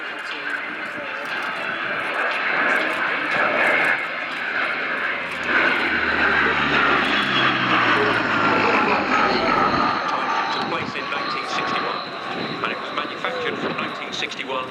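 A French Navy Breguet Atlantique 2 twin-turboprop patrol aircraft flies a display at an air show, its loud droning propeller roar swelling and shifting as it passes, with a voice talking over it.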